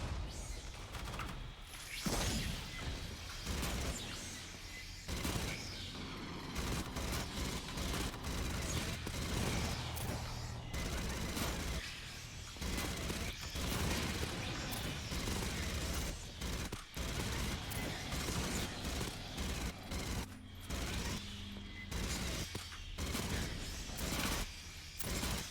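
Sustained gunfire in Aliens: Fireteam Elite, with dense, near-continuous bursts and crashes over about twenty-five seconds, loud and close, and little talking.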